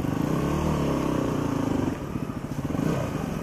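Dual sport motorcycle engine running on a muddy, root-covered trail in Alaska, a steady close rumble that turns into a choppy, pulsing putter partway through, with no talking.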